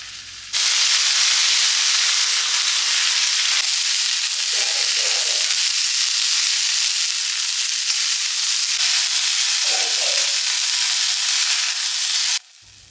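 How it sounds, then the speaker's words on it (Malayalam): Chopped cluster beans hit hot coconut oil with popped mustard seeds in a pan, giving a loud, steady sizzle and hiss that runs unbroken for about twelve seconds, with a few faint stirring clunks and no voices. "ചട്ടിയിൽ വെളിച്ചെണ്ണ വറന്ന് ചൂടായി കടുക് ഇട്ടൊന്ന് പൊട്ടിച്ച് ഇതാ നമ്മൾ നുറുക്കി വെച്ചത് കൊത്തമര അതാണ് ചേർക്കാം"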